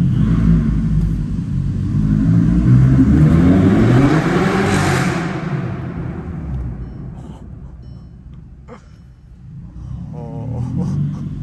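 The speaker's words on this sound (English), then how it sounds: "this is a straight piped R-line with the APR tune in a garage" A tuned, straight-piped Volkswagen R-Line engine roars and revs in a closed garage with a raspy exhaust, the pitch rising then falling away, settling to a rumbling idle before revving again.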